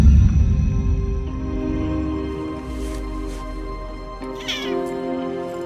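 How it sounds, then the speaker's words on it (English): A house cat lets out a long, drawn-out meow close by, stretching into a wavering caterwaul under a steady background hum, with a brief sharper sound near the end. "Cute cat."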